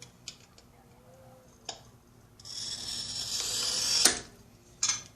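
A self-oiling glass cutter scoring a line across a sheet of glass: a few faint ticks, then a rising, steady hissing scratch lasting about two seconds that ends in a sharp snap, followed by a brief click.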